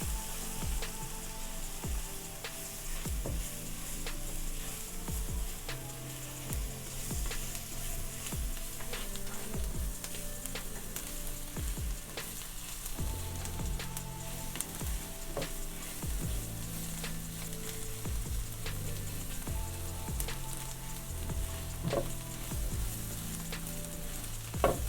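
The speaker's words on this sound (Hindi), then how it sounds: "अब मैदे को थोड़ा सा भूनेंगे।" Flour sizzling as it is stirred and toasted in a pan with softened onions, a steady low crackle and hiss with occasional scraping strokes of a spoon, close and fairly quiet, no voices.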